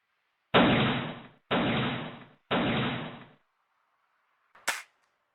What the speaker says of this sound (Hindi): ये एक छर्रों वाली गन है। इसकी आवाज़ तो ऐसी ही होती है।